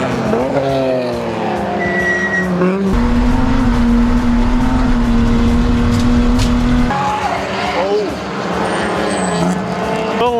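Tires squeal as a race car brakes hard on track, where a 2018 Mustang GT is being driven, the loud engine note dropping and shifting while the skid shrieks over it and continues nearly throughout.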